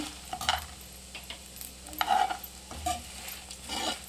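Spices being stirred and dry-roasted for a wedding-style vegetable sambar, with a steady soft sizzle and scraping stirs that swell in a few bursts over several seconds, close up and without talk.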